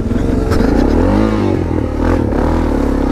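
A Suzuki DR650 dual-sport motorcycle engine roars loud and close as the bike churns through mud holes, its revs rising and falling with clattering and splashing, and no talking.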